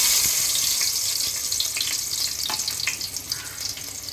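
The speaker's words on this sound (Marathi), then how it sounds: "त्यामध्ये आपण ही ठेचून घेतलेली लसूण टाकूया" Crushed garlic cloves sizzle in hot oil in a cooking pot, a dense, continuous hiss with small crackles and spatter throughout.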